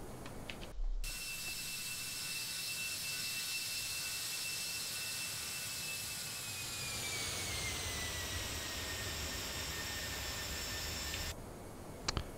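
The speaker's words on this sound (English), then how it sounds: "One more flyby." Airbus A319 flying past in a flight simulator game, a steady jet engine roar with a whining tone that slowly falls in pitch, loud and continuous throughout with no talking.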